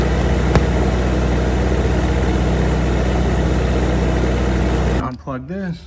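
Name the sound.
Kubota ZD21 engine running with radiator cap removed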